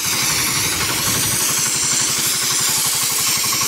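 A diesel-powered washing machine used for cleaning a tractor runs steadily close by, a loud chugging engine drone with a fast regular pulse and no talk.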